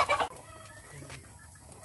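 Chickens with a rooster clucking in a short, loud burst at the start, then fainter farmyard noise in the background of a rural home.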